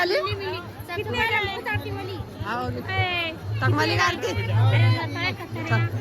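A dense crowd murmurs at the Bageshwar Dham temple, a steady babble of many voices with a low hum beneath, while nearby people talk clearly over it.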